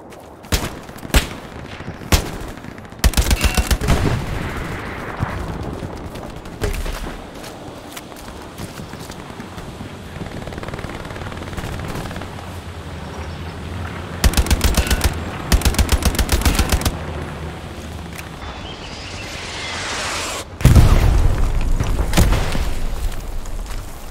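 Bursts of automatic and single-shot gunfire in Hell Let Loose, a World War II shooter, come in rapid clusters, some close and loud, others more distant, with booms and crackling between volleys.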